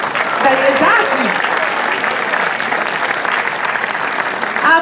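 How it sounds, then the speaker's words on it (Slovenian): Audience applause for Mr. Toplak at the 2022 Vurberk festival awards, a sustained wash of clapping from a crowd, loud and even, with a voice briefly heard over it. "A ne dajmo en aplavz za gospoda Toplaka, da se še opogumijo."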